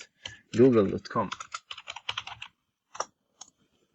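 Typing a web address on a computer keyboard: a quick run of close, crisp key clacks, denser at first and then thinning to a few final taps.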